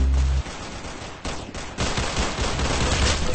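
Rapid gunfire from the Roblox-style shooter game Arsenal, loud bursts of automatic shots in quick succession with a brief gap between volleys.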